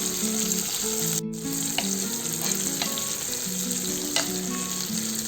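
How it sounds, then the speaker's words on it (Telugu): Onions frying in a pan for chicken keema, a dense, steady close sizzle with occasional stirring scrapes and spatula taps, no voices. "లైట్గా వేయించుకోవాలి. ఓకే అండి, ఆనియన్స్ మనకి ఫ్రై అయిపోయాయి."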